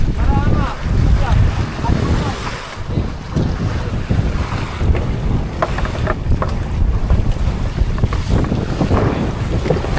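Fishing boat out on the rough Pacific Ocean, with a steady engine drone mixed into strong wind buffeting the microphone and waves washing around the hull throughout.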